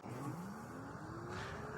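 An SR71 Goat electric bike launches hard off a start line, a rising motor whine climbing steadily in pitch over a faint background rush, with no voices.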